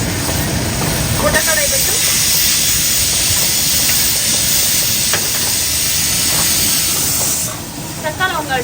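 A pressure cooker for mutton curry hisses with a loud, steady jet of steam after the stove is switched off, fading near the end, while someone talks briefly over it.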